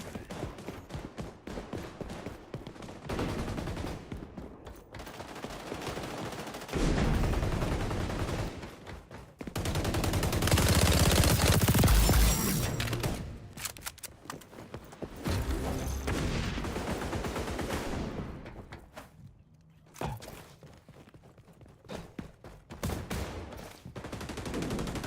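Video game gunfire laying down covering fire, with bursts of automatic rifle and machine-gun shots, heavy booms and rattling volleys coming in dense waves with brief lulls, loud and close.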